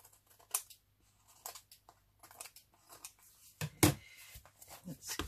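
Scissors snip paper for a junk journal in a few quiet, separate cuts, close and sparse, with a louder crisp crunch of blades and paper near the middle and silence between.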